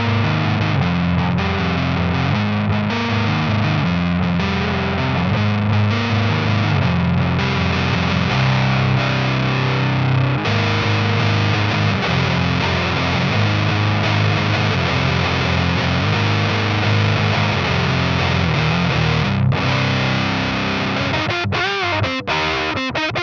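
Electric guitar played through a Dolamo D-2 fuzz pedal at low gain into a high-watt amp channel, a continuous fuzzy, buzzing tone of strummed chords and riffs, with no talk.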